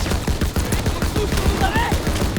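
Rapid gunfire in Call of Duty WWII: a dense, loud stream of closely spaced shots with fast, even machine-gun rhythm and overlapping bangs over a constant battle din, lasting a couple of seconds.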